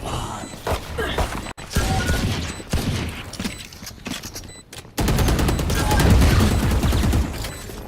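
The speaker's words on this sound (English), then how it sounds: "A lot of firing through the Phoenix wall." Heavy sustained gunfire in Valorant during a pro esports match retake, with repeated rapid bursts of shots fired through a Phoenix fire wall, loud and dense, ending in a continuous rattling volley.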